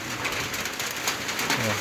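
Steady rain falls outside a field hut in rural Thailand, a dense hiss across the whole clip with soft bird cooing nearby and no clear talk.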